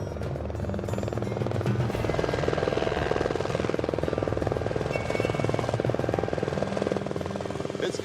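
A helicopter's rotor chops rapidly and steadily, loud and close, at a gold-mining site with fog rolling in, a continuous thumping drone with wind and buzzing engine noise.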